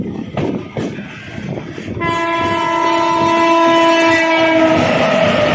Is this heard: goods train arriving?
yes